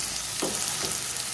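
Okra and mutton for bhindi gosht frying in a pan, a steady soft sizzle with a few scraping stir strokes at regular intervals, close and fairly quiet, with no voices.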